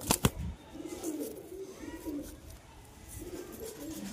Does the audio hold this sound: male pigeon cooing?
yes